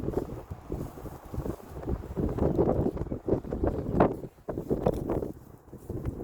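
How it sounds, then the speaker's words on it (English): Steady wind buffets the microphone at Blackrock Castle in Cork, Ireland, with low, gusty rumbling that rises and falls throughout, loudest in brief surges, with no voices present. "It's awful windy up here."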